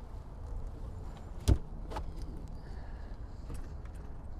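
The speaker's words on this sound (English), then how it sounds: "Hands-free tailgate." The hands-free power tailgate on a Porsche Macan GTS works with a sharp latch thunk followed by a soft, faint motor whir and a few light clicks against a steady background hum.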